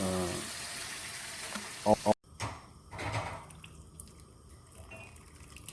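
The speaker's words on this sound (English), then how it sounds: "we're extracting the juice and pouring it on top of the Ndole" Shrimp juice is poured over ndole cooking in a pot for a Douala Cameroon dish. It gives a wet sizzle with a few sharp drips and splashes, then a softer simmering hiss.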